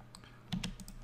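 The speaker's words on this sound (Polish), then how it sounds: "wybieramy dalej z klawiatury skrót DI, Danuta Irena" A computer keyboard tapped for a two-key shortcut while drafting a house model in Revit, a few sharp close clicks in a short cluster, quiet and with no talking.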